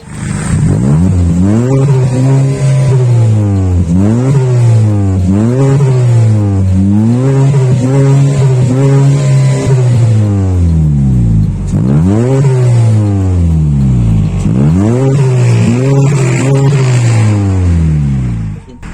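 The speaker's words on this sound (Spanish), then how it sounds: "es escuchar rugir esos motores, así que Cruz, acompáñanos a rugir" A 2011 Chevrolet Cruze 1.8 automatic engine revs repeatedly, rising and falling in loud waves with steady idle in between, close and continuous with no talking.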